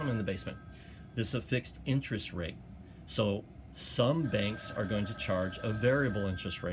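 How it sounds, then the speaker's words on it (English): A telephone rings in the background with steady high electronic tones under a man lecturing in a classroom, most audible in the second half while he keeps talking. "Sorry about the phone"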